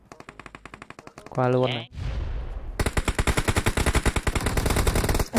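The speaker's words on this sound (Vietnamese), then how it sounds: "Bên kia bắn nhau kìa." Automatic gunfire from the mobile battle royale game PUBG Mobile. A short spoken line comes first, then a loud, rapid burst of shots rattles on steadily for several seconds.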